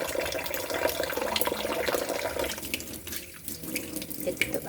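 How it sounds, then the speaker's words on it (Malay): Tap water runs steadily into a sink while dried squid is cleaned, a continuous splashing hiss that thins out toward the end as the flow is shut off. "Kita tutup air tak nak membazir."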